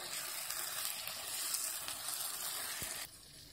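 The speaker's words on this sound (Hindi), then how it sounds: "अब हम इसमें मंचूरियन मिक्स कर देते हैं, अच्छी तरह से कोट कर देंगे सॉस में।" Veg Manchurian balls stirred and coated in sauce in a hot pan, with a steady close sizzle and scraping that runs for about three seconds before dropping away.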